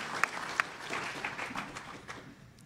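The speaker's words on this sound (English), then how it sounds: "That's for everyone. Everyone claps." Audience applause at a 2D animation convention panel, a moderately loud, steady wash of clapping from a room crowd with a few sharper individual claps standing out near the start.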